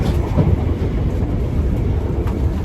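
A train runs along rails with a steady loud rumble and faint rhythmic clatter, heard continuously from inside a carriage.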